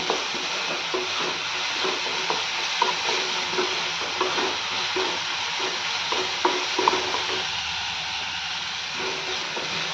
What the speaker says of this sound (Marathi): छान असा कांदा भाजून घेऊयात